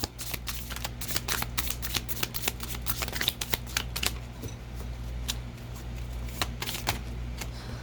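Tarot cards shuffled by hand, giving rapid riffling and flicking bursts at close range over a low steady hum, with a quieter stretch in the middle.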